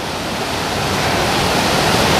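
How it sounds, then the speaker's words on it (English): A waterfall in North Wales roars in a steady, loud, continuous rush of falling water, alone and without voices. "We're at a different set of waterfalls."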